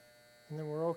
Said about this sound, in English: Just going to gently touch the skin with the clipper.